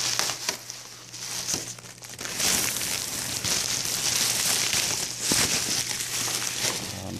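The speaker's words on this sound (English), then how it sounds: "we'll just try to unwrap it, hopefully one piece at a time until we get through to it all." Packing material around an X-Files Flukeman bust is peeled and torn away by hand, giving steady close crinkling and rustling with brief tearing bursts and no talk.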